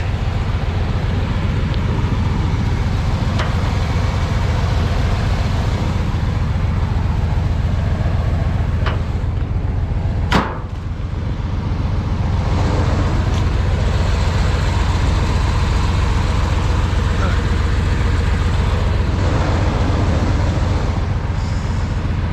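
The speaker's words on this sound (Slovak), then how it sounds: "Motor ide plynulo, nic z neho netečie." A 1987 Chevrolet G20 Winnebago van with a 5.7 V8 idling smoothly, a loud steady low engine rumble held close throughout with a brief click midway.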